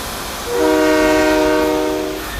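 A loud, close train horn sounds one sustained chord-like blast over the rumble of a passing train, swelling in and then tapering off.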